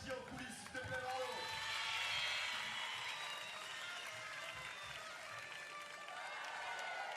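A crowd applauds and cheers at a women's 3x3 basketball finals in Bordeaux, a steady wash of clapping and cheering, with an announcer speaking over it through the arena sound system.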